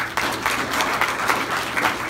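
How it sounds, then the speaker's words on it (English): An audience at an outdoor charity kids' golf event gives a short round of applause, a steady patter of clapping from a modest crowd lasting about two seconds. "So that deserves a little clap."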